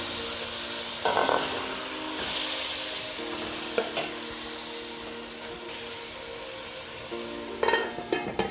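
Steady sizzling of garlic in a hot pan with occasional scraping stirs, a few louder clatters near the start and end, no voices.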